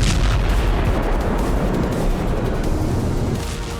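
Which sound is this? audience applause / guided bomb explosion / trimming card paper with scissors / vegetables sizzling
guided bomb explosion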